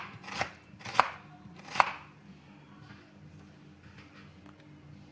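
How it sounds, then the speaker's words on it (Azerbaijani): A knife chops onion finely on a board for a blinchik mince filling: three crisp, evenly spaced strikes close by, then quieter faint cuts in a hushed kitchen. "Soğanı doğrayırıq xırda-xırda."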